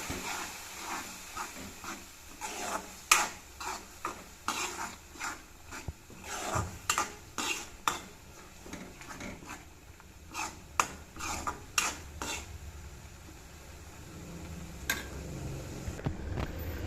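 A spoon scrapes and knocks against a pot in irregular strokes while green chili curry paste sizzles and hisses steadily underneath, with no talking.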